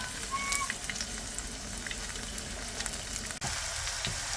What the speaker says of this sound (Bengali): ভাজা হচ্ছে, ধনেপাতার বড়া